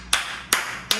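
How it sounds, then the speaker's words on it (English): Three sharp hand claps spaced roughly evenly over a second, close and fairly loud, with no voices. "a round of applause"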